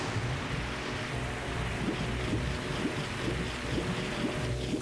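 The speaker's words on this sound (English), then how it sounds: "So water level rises." Water rising and churning in The Legend of Zelda: Ocarina of Time Master Quest, a continuous sloshing, rushing wash with a low rumbling underlay, fairly loud and steady, with no voices.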